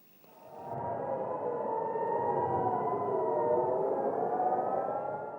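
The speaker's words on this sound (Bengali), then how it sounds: "সাইরেন ও রকেটের শব্দে কেঁপে উঠছে ইসরায়েলের উত্তরাঞ্চলের বেইট হিল্লেল শহর" An air raid siren in Beit Hillel, a town in northern Israel, rises and holds a long steady wailing tone, distant and alone, fading slightly at the end.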